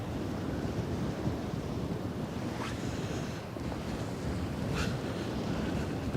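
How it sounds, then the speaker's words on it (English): Waves and wind at sea while watching a chemical tanker fitted with eSails, a steady loud rush of surf and gusting wind buffeting the microphone, with no voices. "A little bit of waves in front of her."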